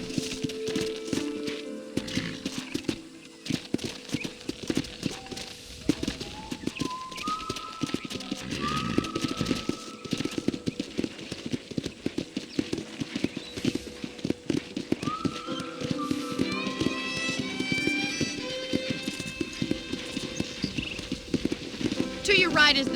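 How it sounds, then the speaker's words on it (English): Horse hooves clip-clop steadily while riding on a ranch in the video game Red Dead Redemption, with rhythmic trotting under game music and occasional talk throughout. "let's see if you can still ride a horse"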